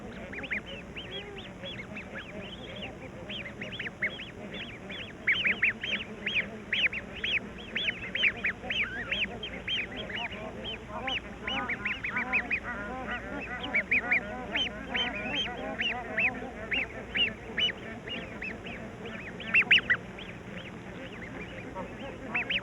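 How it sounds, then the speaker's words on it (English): Newly hatched bar-headed goose chicks at the edge of a Ladakh village give a steady stream of rapid, high peeping calls for over twenty seconds, close and continuous against a quiet outdoor background. "The bar-headed geese chicks have just begun to hatch."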